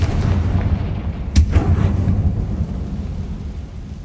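Confringo fire spell blasting in the video game Hogwarts Legacy, a single sharp explosive crack followed by a rumbling boom that fades out over a steady low background drone.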